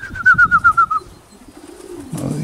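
Racing pigeons coo nearby in a quick run of soft pulsing calls, with a higher chirping trill over them, then a lower drawn-out coo.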